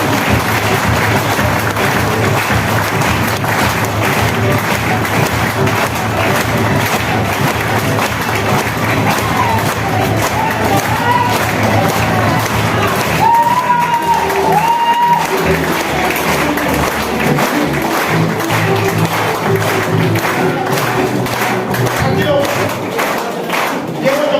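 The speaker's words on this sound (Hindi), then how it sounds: "जोरदार ताली से खड़े होके" A standing audience at a stage program in Malda gives loud, sustained applause, with dense clapping and crowd noise throughout and a brief tonal sound partway through.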